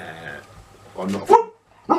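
A dog barks a couple of times, loud and close, in short sharp bursts while a person speaks briefly.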